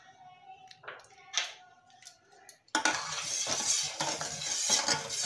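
A spoon clinks and scrapes in a pan on a gas flame while sugar dissolves in water, first with sparse taps and then a denser, continuous stirring rasp with a soft sizzle, close by.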